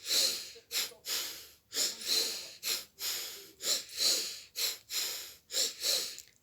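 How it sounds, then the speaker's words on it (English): Rhythmic cleansing breaths drawn sharply in through the nose with a twist, about a dozen short forceful sniffs and exhales in a steady repeating pattern, close and alone without talk. "it's a breath inwards through the nose with twist."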